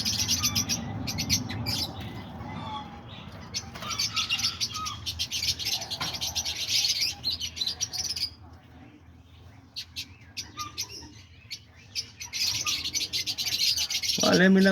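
Cockatiels, parakeets, several kinds of lovebirds and diamond doves make dense, overlapping chirps and tweets at close range, with busy chattering bursts that pause briefly near the middle before picking up again.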